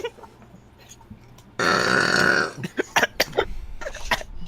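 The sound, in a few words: burp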